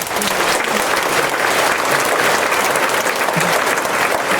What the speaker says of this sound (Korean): 박수로 목사님을 모시겠습니다.